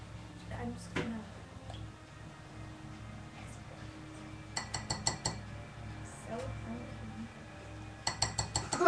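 A metal spoon clinks against a glass cup while stirring, in short rapid bursts of taps, with people talking nearby.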